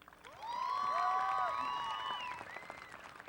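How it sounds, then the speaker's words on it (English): Graduating class and audience at the Cibola High School 2015 graduation in Yuma, Arizona applaud the graduates' support team, with steady distant clapping mixed with high whoops and cheers swelling and then easing over a few seconds. "I ask that we all give our support team a huge round of applause."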